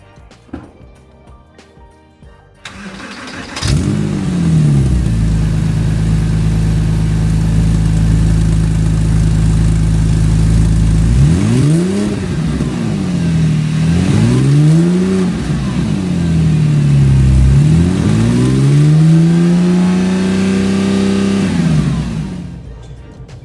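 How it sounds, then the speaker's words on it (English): A Porsche 997 with AW headers, AW side mufflers and a 200-cell cat X-pipe cranks over on a cold start and settles into a loud, steady idle. It then gives several rising and falling revs and finishes on a long climbing blip before shutting down. "I will start the car, give you guys a cold start, that way you can hear what it sounds like with the full system"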